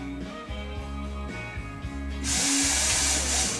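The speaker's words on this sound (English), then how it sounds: "drill another hole." A power drill whirs steadily up close, drilling a hole in the aileron of a Revolver 50cc model airplane, its pitch shifting as it bites, then a louder, hissier burst as the bit pushes through.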